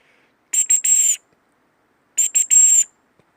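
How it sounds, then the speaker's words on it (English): Two bursts of loud, shrill human whistling calling dogs at an outdoor camp, each a quick pair of short blasts followed by a longer one, separated by a pause of silence. "Give them a whistle."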